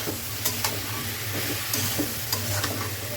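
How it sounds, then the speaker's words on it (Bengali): Small potatoes and dried fish being stir-fried together in a pan, a close, steady sizzle punctuated by brisk spatula scrapes and stirs at irregular intervals, with no one talking. "দিয়ে দিচ্ছি শিঙি আলু কারণ শুটকিটাকে এটার সাথে ভালো করে কষাবো"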